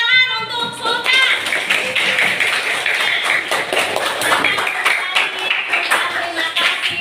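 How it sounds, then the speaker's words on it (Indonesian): Classroom children clap together in a lively, uneven patter of small hands lasting several seconds, with a teacher's voice briefly heard at the start. "Kita berikan tepuk tangan untuk Sultan."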